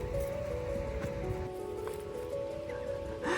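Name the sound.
rain falling at a remote beach in Norway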